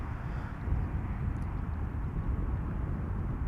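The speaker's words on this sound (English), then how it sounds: "So this is British Airways Flight 8489 arriving from London City, Embraer 190" British Airways Embraer 190 arriving at Amsterdam Schiphol from London City, heard as a continuous low, rumbling jet drone at moderate distance, steady throughout and free of voices.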